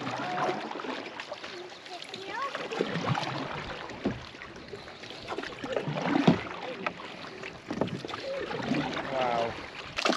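Paddle strokes swishing and dripping as a canoe or kayak moves across the water, with wind buffeting the microphone and people talking over the splashes throughout.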